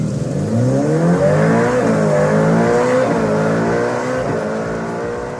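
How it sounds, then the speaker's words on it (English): Ferrari SF90 Spider hybrid V8 engine revving loudly and continuously up close, its pitch sweeping up and down in several rising and falling surges with a sharp, metallic, high-pitched tone. "revs, soprano, thrilling, metallic sounds"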